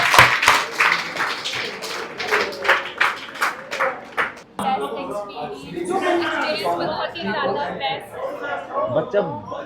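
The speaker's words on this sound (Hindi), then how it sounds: "ताली बजा दो एक बार डॉक्टर अली के लिए" A student audience at a motivational talk in Hisar breaks into clapping for Doctor Ali. Voices and scattered taps come first, then a dense, steady burst of applause mixed with chatter.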